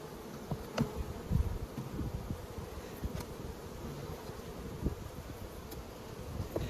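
Honeybees at an open hive while frames are moved to combine two colonies: a continuous, fairly quiet swarm buzz with occasional louder passes close by.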